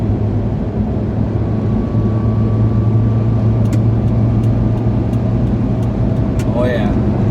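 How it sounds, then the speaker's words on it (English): Steady, loud engine and road drone inside a Toyota Starlet at about 130, a constant low rumble with wind noise filling the cabin. "let's see what that sounds like in this little car"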